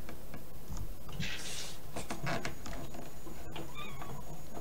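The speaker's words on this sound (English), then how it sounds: "That kitty meow." A cat meows several times nearby, with a soft ticking and small household clatter in a room behind it.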